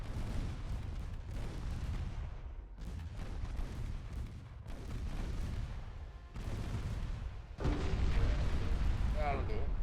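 Warship guns firing in Ultimate Admiral Dreadnoughts, heavy booming blasts rolling one into the next in a dense, continuous barrage, with a louder stretch near the end.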